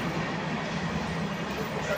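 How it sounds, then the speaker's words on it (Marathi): A train rumbles past nearby, a steady low roar with a broad hiss over it. "बरं ट्रेन आली"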